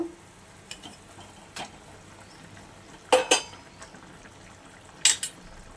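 Pointed gourd (potol) pieces go into a pan for potol shorshe: a few sharp clattering knocks and scrapes stand out over a faint, low background sizzle in an otherwise quiet kitchen.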